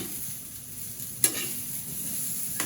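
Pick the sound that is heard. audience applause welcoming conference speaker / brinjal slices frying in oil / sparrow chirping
brinjal slices frying in oil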